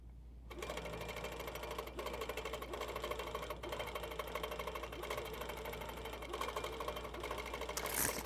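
A long-arm HQ Pro-Stitcher quilting machine stitches a tie-off, its needle chattering in a fast steady rhythm over a constant low motor hum, close and even throughout with a brief rise at the end.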